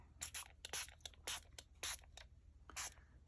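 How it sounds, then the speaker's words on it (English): Short hissing bursts from a sprayer misting alcohol ink onto a coffee filter, about seven quick puffs in an uneven rhythm, faint and close with no talking. "It definitely gets it covered a lot faster with the sprayer."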